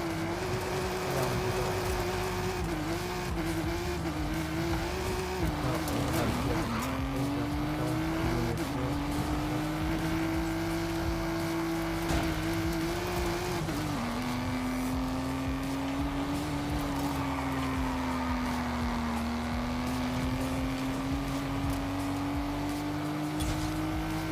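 A car in a video game drives and skids, its engine tone droning steadily and bending up and down with shifts and slides throughout, loud and continuous with no voices.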